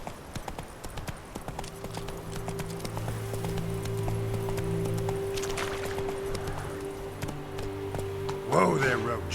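Roach, a horse in the Witcher 3 video game, gallops in a steady, fast clip-clop rhythm of hooves, with game music and a voice speaking briefly near the end.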